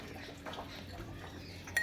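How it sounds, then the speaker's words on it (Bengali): A spoon stirs sugar into cold water in a glass while kesar sharbat is being made, giving faint, scattered clinks and scrapes against the glass. A sharper clink comes near the end. "ভালো করে আমি নেড়ে ছেড়ে নেবো।"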